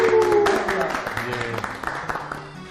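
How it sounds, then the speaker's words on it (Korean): An audience at a Korean talk-show-style event claps to welcome a guest, a dense crackle of hand clapping that builds and continues under music and background voices. "큰 박수로 함께 하겠습니다"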